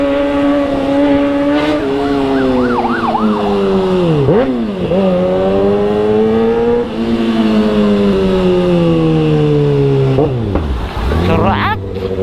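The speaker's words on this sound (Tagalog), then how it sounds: "Nakakamiss itong motor na to." A motorcycle engine revving close by, its pitch climbing and falling through repeated throttle blips, dropping sharply twice before building again, loud and continuous.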